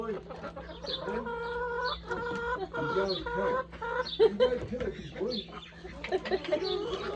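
Chickens cluck and call close by in repeated bursts of short, pitched clucks, with a person's voice speaking now and then among them.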